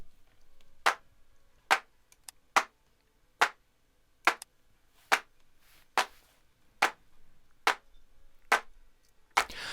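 Dry, unprocessed clap samples sit alone in a mix, striking roughly a dozen times in a steady rhythm; each hit is short, crisp and moderately loud, with brief silent gaps between.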